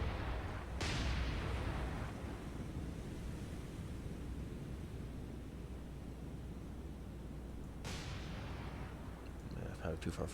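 Naval gunfire in the War on the Sea game at night, two heavy booming salvos with a long rumbling tail over steady sea-like noise, loud and close.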